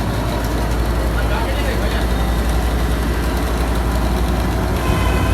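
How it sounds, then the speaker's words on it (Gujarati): A train rumbles at a village fair in Ranuja, a dense continuous engine and wagon drone filling the scene, with crowd chatter and voices mixed underneath. "આ ટ્રેન કેવડી છે"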